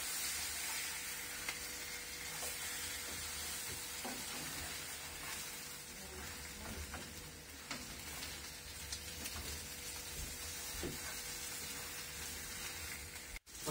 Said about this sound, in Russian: Итак, вот мы их положили жариться, и сейчас мы переворачиваем.